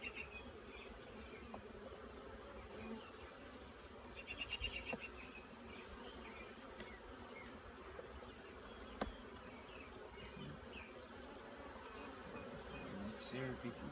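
Bees buzzing at an open beehive during hive inspection, a fairly thin population, with a continuous hum and individual bees flying close past the microphone, no talking.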